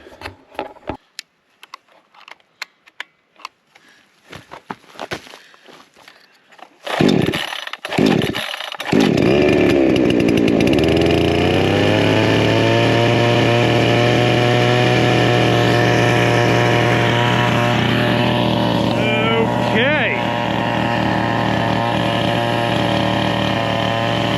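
A Wemars chainsaw with an easy-start system is pulled several times in rough, sputtering bursts, then catches about seven seconds in and runs on as a loud, steady, close engine drone with slight shifts in pitch.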